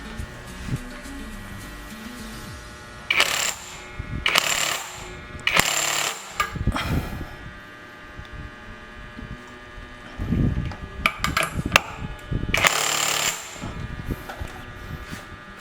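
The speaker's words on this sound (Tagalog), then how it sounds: "Gamitan natin ng power tool or yung Y tool pag wala kayo nito." A power tool tightens CVT parts on a Honda Genio scooter, firing in several loud, rapid rattling bursts separated by pauses and quieter clanks.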